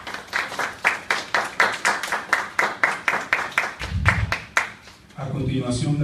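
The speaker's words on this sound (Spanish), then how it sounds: "para quien les pido un fuerte y caluroso aplauso" Conference audience clapping for the speakers, a steady rhythmic round of applause that stops abruptly near the end as a voice begins speaking.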